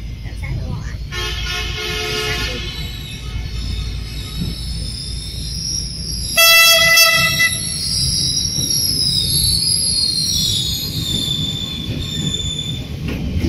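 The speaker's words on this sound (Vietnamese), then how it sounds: "Tàu Hỏa vào ga Đà Nẵng qua ngã ba Huế." A train pulls into Da Nang station beneath the Nga Ba Hue overpass, with steady rumbling wheels and squeal, then a loud, bright horn blast near the middle, continuing over constant rail noise.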